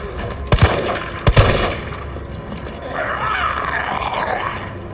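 Gunfire in Resident Evil 3 Remake, with a couple of sharp loud shots over a roaring, rumbling game soundscape.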